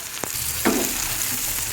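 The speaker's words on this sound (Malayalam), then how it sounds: "ഇനി നമുക്ക് കറിവേപ്പിലൊന്ന് ഇട്ട് കൊടുക്കാം." Curry leaves and green chillies hit hot oil in a pan for chicken, bursting into a loud sizzle with a sharp crackle, then settling into steady close frying hiss, with no one talking.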